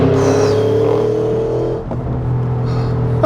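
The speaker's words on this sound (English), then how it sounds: "This engine just sounds so good" A detuned 2021 Porsche Cayenne GTS with a twin-turbo V8 holds a steady, loud engine drone with deep harmonics, then dips briefly and settles back into a lower, even hum.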